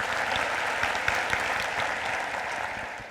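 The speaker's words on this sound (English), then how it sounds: "I'll let you applaud on that one because that's a big deal." Audience at a school district opening day event applauding steadily for about three seconds, a dense, even wash of clapping at close range with no voices over it.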